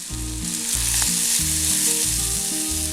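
Sliced onion sautés in hot oil for a Kerala fish molly, giving a loud continuous sizzle up close with a faint low hum beneath and no voices.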